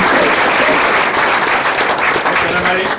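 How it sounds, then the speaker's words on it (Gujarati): Loud, sustained audience applause fills a community hall during a Chicago Midwest cultural organization's talk event, a dense continuous clatter of many hands clapping for the whole stretch. "જોરથી તાળીઓ પાડો ફરીને એકવાર."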